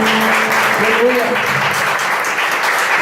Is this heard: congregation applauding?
yes